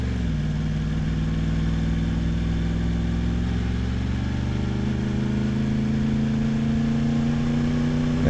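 A motorcycle engine runs steadily and loudly close by, its tone holding fairly even then rising a little as the rider shifts down and turns the bike around, with no talking.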